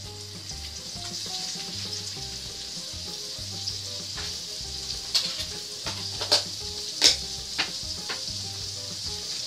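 Butter and onion frying in a skillet, a steady bright sizzle throughout, with a few louder spits and pops toward the end and a low background hum, no talking.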